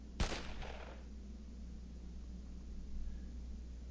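A gunshot in the Shadowrun Chronicles video game: one sharp, loud crack with a short rumbling tail, followed by a low steady hum.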